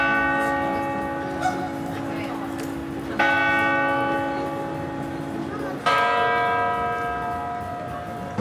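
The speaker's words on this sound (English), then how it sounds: "They come out and I think the little statues move around and play some bells" Bells of a clock's chiming mechanism with moving statues, heard aboard a cruise, strike three times in a row, each ringing tone fading slowly; a steady low hum continues underneath.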